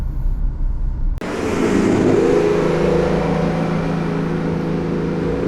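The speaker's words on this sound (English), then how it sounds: "There's a very loud car." A very loud car passes on a back road in southern Alabama, its engine roar cutting in abruptly and holding as a sustained, close, droning rumble for several seconds, with no talking.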